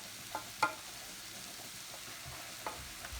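Roux of flour and fat cooks in a pan for gravy, a low, quiet sizzle with a few soft scrapes of stirring.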